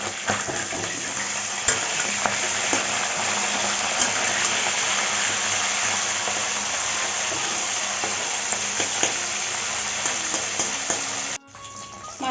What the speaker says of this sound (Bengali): তেল গরম হয়ে গেছে এখন মাছটাকে ভেজে নিচ্ছি